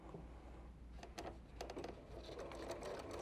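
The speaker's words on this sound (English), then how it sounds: "So I'm going to stitch about 3/4 of an inch, and then I'll back stitch to the middle" A sewing machine runs steadily for a short seam on a small quilted fabric flower made from fabric strips, a close, continuous mechanical whir with soft rhythmic ticking and no talking.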